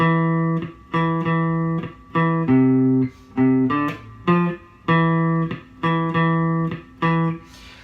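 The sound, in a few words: bass guitar playing a riff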